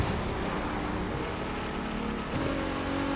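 An Aston Martin Vantage engine droning steadily in The Crew 2 racing game, a continuous dense tone with a gear-shift-like dip and rise near the end, no voices.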